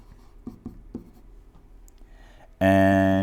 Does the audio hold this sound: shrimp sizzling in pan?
no